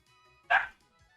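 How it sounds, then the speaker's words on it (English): A single short dog bark rings out at middle distance over quiet background hum, followed by silence. "I'm gonna have to go stop those dogs in a minute."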